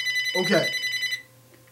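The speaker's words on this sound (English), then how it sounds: "That's the phone ringing." A telephone rings indoors with a steady, bright electronic tone lasting about a second, while a person briefly speaks over it.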